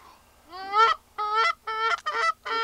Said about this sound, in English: a goose now.